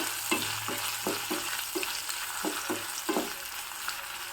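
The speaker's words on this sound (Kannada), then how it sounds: "ಈ ಆಲೂಗಡ್ಡೆ ಚೆನ್ನಾಗಿ ಎಣ್ಣೆಯಲ್ಲೇ ಫ್ರೈ ಆಗಬೇಕು" Small-cut potatoes fry in oil for a Brahmin-style spicy methi dish, giving a continuous crackling sizzle broken by regular scraping stir strokes, close and fairly loud with no voices.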